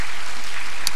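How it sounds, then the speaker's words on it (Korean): Church congregation applauding for its teachers, a steady wash of many hands clapping together, loud and even, with no voices over it. "우리 모든 분들의 축하의 감사의 박수를 보내겠습니다"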